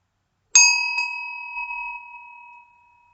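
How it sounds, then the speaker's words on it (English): A meditation bell struck once, with a bright metallic strike followed by a long, clear ringing tone that slowly fades into silence over a few seconds. "when I ring the bell to start the meditation"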